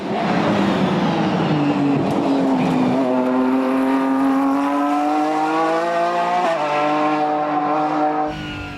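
A Mercedes CLK GTR race car accelerates hard on a wet track, its loud engine note climbing in pitch and dropping at gear shifts before climbing again, close and continuous throughout.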